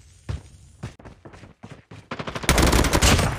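Gunfire in the Call of Duty Mobile video game: several sharp separate shots, then a dense rapid burst of automatic fire that grows louder at the end.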